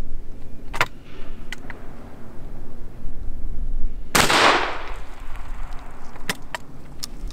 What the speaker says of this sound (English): Next, we're shooting buckshot.